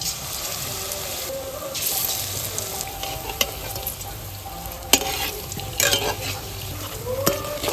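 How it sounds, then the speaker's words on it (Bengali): Okra (bhindi) frying in oil in a wok, a continuous close hiss and sizzle with occasional stirring scrapes and clinks throughout, with no talk. "এইবার আমি ভেন্ডিগুলা ভেজে নেব"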